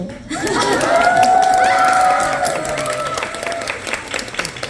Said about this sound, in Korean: 잘 안 들려요 박수.